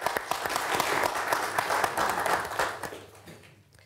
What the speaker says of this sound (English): Ladies and gentlemen, a round of applause for my panel,